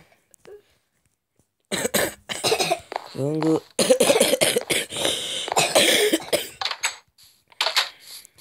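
Several harsh coughs and throat-clearing sounds mixed with a voice talking, close and loud, in uneven bursts.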